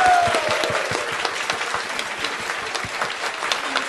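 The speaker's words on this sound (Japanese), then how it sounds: "皆さんもっと大きな拍手をお願いします。" Audience applause greets the winners of a BlazBlue 2-on-2 fighting game tournament, a crowd of many hands clapping steadily at mid distance, a faint voice briefly audible at the start.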